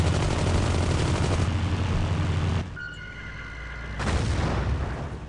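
A medic's submachine gun fires in Battlefield 1942, bursts of rapid, loud shots with a heavy rumbling backdrop, a short lull, then more firing.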